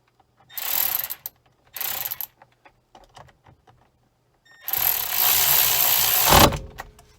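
Bolts being snugged up by hand tool during clockspring replacement on a Toyota Corolla/Matrix steering column: two short bursts of ratcheting clicks, scattered small taps, then a longer, louder stretch of ratchet and metal handling close by.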